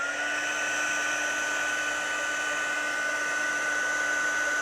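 A heat tool blows steadily at close range throughout while a greeting card is being crafted, a constant whirring hiss with a fixed tone and no pauses.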